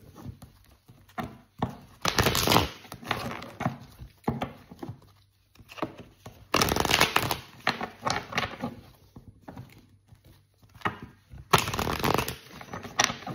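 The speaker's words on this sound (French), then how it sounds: "je vais mélanger le jeu" A deck of tarot-style reading cards being shuffled, with several loud riffling bursts and softer sliding and tapping between them, close by, with no talk.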